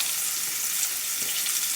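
Steak for pepper steak sizzles in a frying pan, a steady, even crackling hiss with no pauses, close up and alone.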